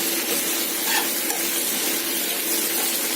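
Onion and tomato sauté in a pan for a potato masala, giving a steady, close sizzle with soft stirring scrapes that run the whole time and no one talking.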